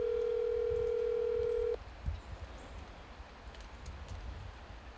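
A steady telephone tone plays loud and continuous for almost two seconds, then cuts off, leaving quiet outdoor background with a faint click in a rural setting.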